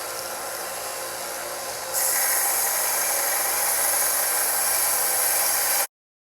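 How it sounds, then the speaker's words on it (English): Belt sander grinds a steel knife blank flat against a heavy-grit belt, a steady hissing whir that grows louder and brighter once the steel meets the belt, then cuts off abruptly. "grind it completely flat against the heavy grit belt on my belt sander"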